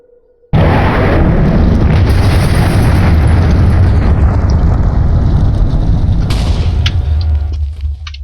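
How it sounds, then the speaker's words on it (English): A missile from the Voltz mod for Minecraft detonates in one sudden, very loud blast, followed by a dense roaring rumble that carries on for several seconds and thins out at the end. "It also makes more kind of controlled explosion too."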